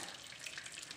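Water poured into hot ghee in a pan while making a tomato sweet gives a brief, steady hiss and splash, close and fairly soft, with no talk.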